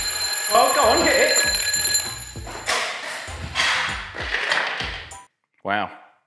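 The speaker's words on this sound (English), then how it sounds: "That was my alarm clock, you know that." An alarm clock rings loudly with bright repeated tones, mixed with clattering and thumps, then cuts off before a short voice at the end.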